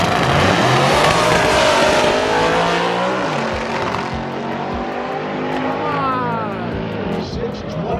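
A Honda and a Mustang race in a 2-step battle, with loud roaring engines revving hard at full throttle and shifting up through the gears. Crowd noise and voices sit underneath.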